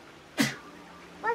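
A single sharp sneeze bursts out near the start, followed by a brief short voiced sound at the end, close and clear over a quiet background.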